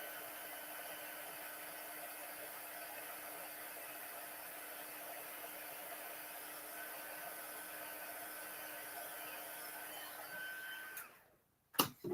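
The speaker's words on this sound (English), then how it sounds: "get it going before I blow it on the embossing powder, just to prevent it from blowing away" A heat tool blowing before melting embossing powder for papercraft: a steady, faint airy hum and hiss running unchanged for about eleven seconds, then cutting off abruptly, followed by a couple of small clicks.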